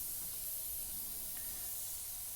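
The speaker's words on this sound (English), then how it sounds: "we'll spray and see how it works out" Carpet dye sprayed as a fine mist during carpet spot dyeing, a continuous soft close hiss that runs unbroken from start to finish.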